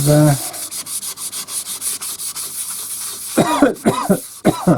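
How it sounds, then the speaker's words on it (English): Rhythmic rasping strokes of sandpaper rub against a wooden bowl, a quick repeated back-and-forth, with a cough at the start and throat clearing near the end. "We're down to sanding now."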